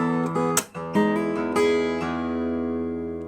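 Acoustic guitar played with a fingernail attack, a few sharp percussive strikes on the strings followed by ringing sustained notes, close and alone.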